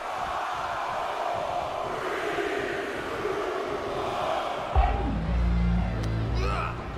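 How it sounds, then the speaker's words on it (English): A wrestling arena crowd roaring at a live elimination event, a dense sustained wall of cheering and yelling, joined partway through by a loud low rumbling thump and a whooping rise near the end. "Just listen to the crowd!"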